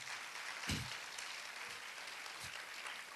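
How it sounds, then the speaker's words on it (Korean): Scattered applause from a church congregation at a youth service, soft and somewhat distant, with a steady wash of clapping and a few louder claps standing out. "다시 한번 우리 목사님께 박수 한번 보내주셨으면 감사하겠습니다"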